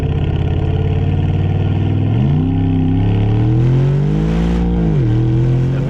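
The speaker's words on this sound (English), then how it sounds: "It's just a great engine, and that exhaust note." An Aston Martin DBX sports SUV engine growls at idle, then revs up smoothly with a rising exhaust note, holds, and drops back down after a shift.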